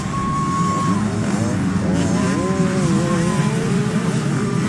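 Racing motorcycles in a ladies' class heat, engines droning steadily with rising and falling pitch sweeps as bikes rev and shift, with a race commentator talking over the continuous roar.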